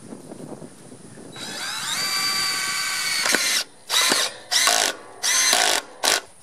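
A power drill drives fasteners to mount a 2x6 board onto a 4x4 post outdoors, first a long continuous whine, then four short separate bursts with pauses between, close and fairly loud.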